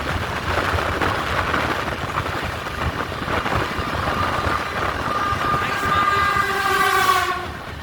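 An Indian Railways express, the 12337 Howrah–Bolpur Shantiniketan Express, runs with a steady, loud rumble of wheels and carriages. A sustained horn or whistle tone rises toward the end.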